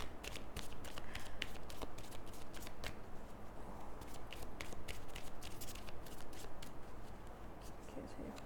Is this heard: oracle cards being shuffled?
yes